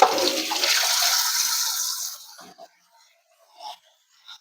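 Raw chicken, already rubbed with salt, apple cider vinegar and lemon, is rinsed under a running tap, giving a steady gush of water for about two seconds before it cuts off, leaving a few faint clunks.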